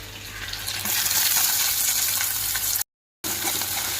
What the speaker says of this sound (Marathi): कांदा छान लालसर परतवू द्यायचा.